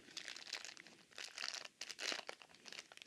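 A sealed plastic bag crinkles and tears as a new microphone from a matched pair is unwrapped, close and continuous crackling with louder bursts of rustling throughout.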